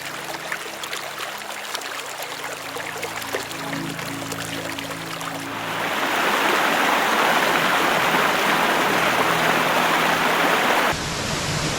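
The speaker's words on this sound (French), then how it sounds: "Et le but là c'est d'aller rejoindre une belle cascade." A waterfall in Glenariff Forest, Ireland, rushes in a steady broadband roar, growing louder and fuller partway through as it comes nearer, with no voices.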